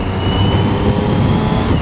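A motorcycle labours up a steep hill in low gear on a street in Bath, its engine drone steady, loud and close throughout with a thin whine running above the rumble.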